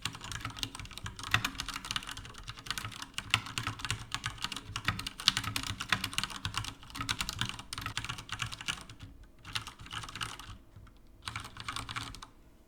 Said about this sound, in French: j'arrive pas à retrouver sur d'autres claviers mécaniques que j'ai essayé, c'est la profondeur et l'épaisseur du son